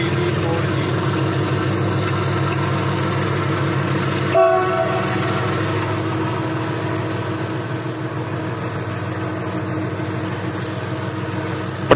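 Train at Pratapgarh Junction railway station in India, a loud steady rumble of rolling stock running throughout, with a brief sharp knock partway through.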